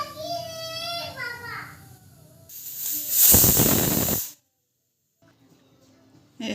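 A pressure cooker of spinach with garlic and green chilies on a gas stove lets out a loud, steady burst of hissing steam lasting about two seconds, after a voice talks briefly at the start; then near silence follows.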